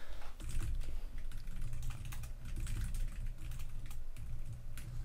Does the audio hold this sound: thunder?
no